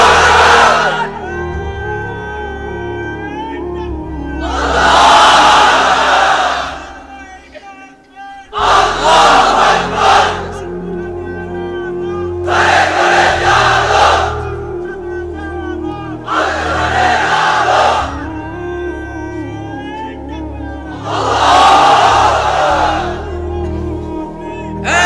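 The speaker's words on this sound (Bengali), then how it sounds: "এবার অবিবাহিতরা দাও লিল্লাহি তাকবীর" A large crowd of unmarried men at an Islamic sermon roars the takbir chant in unison, about five loud, sustained bursts of shouting, each preceded by a single voice calling out the lead.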